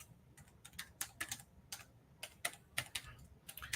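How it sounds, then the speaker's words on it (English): Fingers type a password on a computer keyboard, a quick irregular run of crisp key clicks with brief pauses, close and clear with no voices. "I'm going to type in the password"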